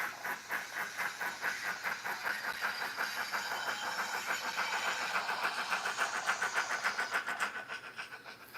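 A model train engine runs with a rhythmic chuffing hiss, regular pulses repeating about twice a second at a steady moderate level, slightly picking up pace toward the end.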